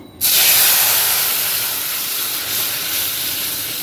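Cumin, chili, bay leaf and dal hit hot oil for moong dal in a home kitchen, bursting into a loud, steady broadband sizzle that starts abruptly and holds strong, easing only slightly with no talk over it.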